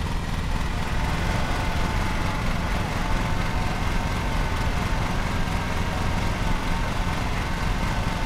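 A riding lawn mower engine in the PlayStation 5 game Lawn Mowing Simulator drones steadily and loudly throughout, a continuous even hum with no pauses and no talking.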